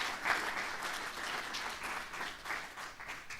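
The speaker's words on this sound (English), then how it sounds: "give a round of applause to all our teachers in the country" Steady applause from a crowd, many hands clapping in a dense, continuous wash that holds at an even level throughout.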